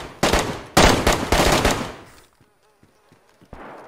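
Loud, close automatic gunfire in the survival game DayZ, several fast bursts crackling over about two seconds, then a brief quiet with faint sounds before another shot starts.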